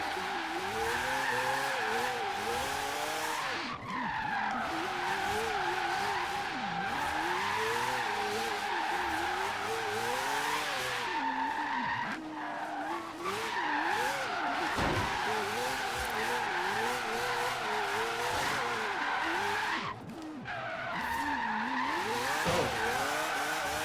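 Mazda RX-7 drifting at a big angle, its tires skidding and squealing continuously over a loud, steady engine roar that rises and falls with revs, close and sustained throughout.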